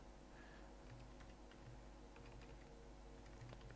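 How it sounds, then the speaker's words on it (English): Typing an error message on a computer keyboard while coding jQuery tabs, with quiet, scattered key clicks over a steady low hum throughout. "here I'm going to type the message, the error message."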